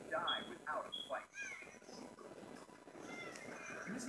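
Cat caught in the coils of a boa constrictor, giving several strained, high meows in quick succession near the start, then fainter cries amid a busy outdoor background of voices.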